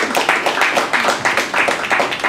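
Audience applause after a conversation with the mayor, a close, loud patter of clapping hands in quick irregular bursts.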